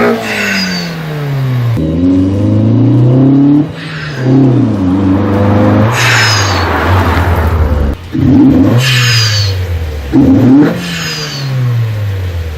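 Naturally aspirated car fitted with a DIY blow-off valve, revved hard several times, each close, loud rise in engine pitch followed by a sharp airy whoosh as the throttle lifts.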